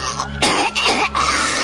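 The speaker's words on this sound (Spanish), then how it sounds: "Su tos se confundió con una serie de ahogos que le impedían lisa y llanamente respirar" Several harsh, raspy coughs of an elderly woman in distress, three or four quick choking bursts close up and alone, used as a sound effect in a Spanish narrated story.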